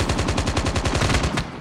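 Rapid automatic gunfire from a video game gun game mode, a fast steady burst of about a dozen evenly spaced shots lasting over a second before cutting off, loud and close.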